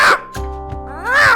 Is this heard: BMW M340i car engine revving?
no